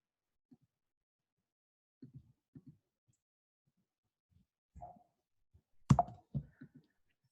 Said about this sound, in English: So now I can't click through.